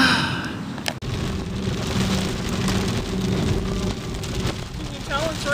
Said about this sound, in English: Can you tell it's raining?